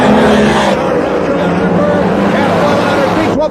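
Drag racing cars launch side by side down the strip at a professional event, a loud, continuous engine roar filling the whole stretch, with crowd noise and an announcer's voice mixed in.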